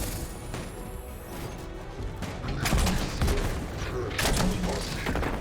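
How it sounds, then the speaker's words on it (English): Grenade launcher shots and explosive impacts in Destiny 2 during a solo Legend Lost Sector run, with several heavy thuds and crashes amid busy combat noise and mechanical clatter, a few louder bursts standing out. "Cool, keep missing your grenade launcher shots."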